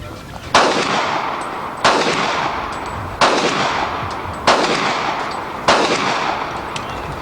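Five loud, sharp reports from a .40 caliber pistol fired at an outdoor range come about a second or so apart, each followed by a long echoing decay, with no talking.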